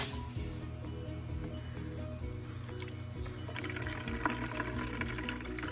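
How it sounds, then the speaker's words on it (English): Hot water is poured over Thai tea leaves in a strainer, making a soft, continuous trickle and splash that is fairly quiet and close. "so I added the water"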